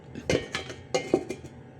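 Metal clatters and clinks against a cooking pot as its lid is set on over sinigang with kangkong and talbos. Several close, quick knocks and rattles come in two short bursts.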